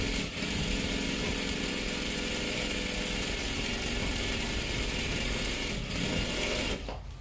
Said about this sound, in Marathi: आता सुईच्या बाजूने इथे सुद्धा एकदम कडेकडेला शिलाई मारून घ्या